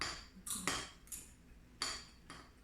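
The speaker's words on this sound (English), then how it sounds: "stir in all that seasoning with the yummy salsa" A spoon stirs seasoning into salsa in a bowl while taco bowls are put together, giving several sharp metallic clinks and scrapes against the dish, close and isolated with no talking.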